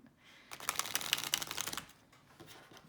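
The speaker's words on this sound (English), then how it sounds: "So I'm going to shuffle." A new deck of cards is riffle-shuffled close by, giving a quick burst of crisp fluttering clicks that lasts about a second and a half, then fades to quiet.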